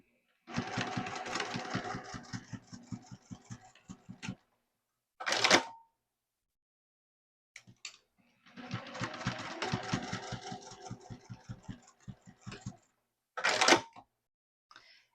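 A sewing machine stitches the short edges of a tote bag gusset in two rapid-running bursts of needle clatter, each followed by a brief whirring adjustment, with quiet pauses between.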